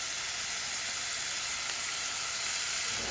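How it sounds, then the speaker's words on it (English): Thin strips of prosciutto crisp in a hot pan, giving a steady, close sizzling hiss with no break and no voices. "I have prosciutto, and I'm just going to crisp it up a little bit"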